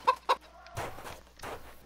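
A chicken in the video game CHKN gives two quick, sharp clucks followed by a pair of lower, drawn-out clucking calls, close and fairly quiet.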